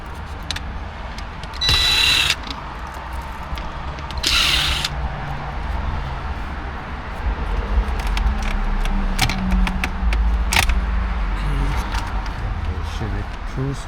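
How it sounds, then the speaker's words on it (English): Power tool backing out screws on both sides of a 2008–2013 Nissan Murano dash trim, two short buzzing bursts of a drill or driver up close, with faint clicks and shuffling between. "Just gonna remove all screws on both sides."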